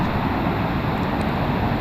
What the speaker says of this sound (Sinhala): වතුර පාර ගොඩක් සැරයි.